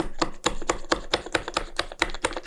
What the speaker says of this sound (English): I'm just going to add the cranberries to the chopper, screw on the lid, and start chopping.